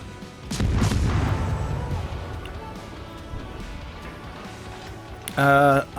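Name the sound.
ship guns firing in the video game World of Warships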